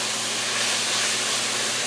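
Garlic sizzles in a hot skillet among chicken, peppers and onions for fajita pasta, a loud, continuous steamy hiss that holds steady throughout.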